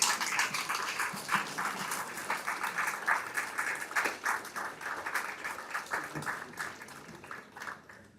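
An audience at a resort opening ceremony gives a standing ovation, with sustained, dense clapping from a crowd that continues steadily before gradually thinning out.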